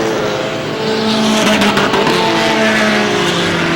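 Stock car engines roar loudly on a race track, several motors droning and shifting pitch together in a steady, continuous wall of sound with no voices.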